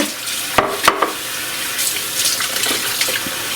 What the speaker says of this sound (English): The water they were in is purple. Dump some of that out.